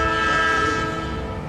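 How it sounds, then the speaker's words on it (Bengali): A train whistle sounds at night from some distance, a steady sustained tone held over a low rumble of rail noise throughout. "ঠিক রাত 8টা নাগাদই দূর থেকে ট্রেনের হুইসেল শোনা গেল।"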